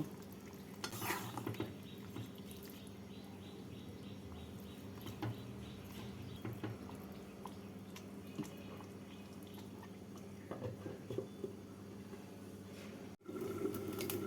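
Koi fish curry with cauliflower, potato and lentil dumplings bubbles gently in a pan after a stir, a soft close simmer with scattered stirring clicks, then a brief cut and a lid-muffled tone.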